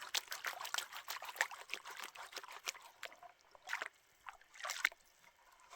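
While someone pans for gold in a creek swollen by spring snowmelt in grizzly country, water sloshes and trickles in a pan in irregular splashing bursts, nearby but quiet, with no talk.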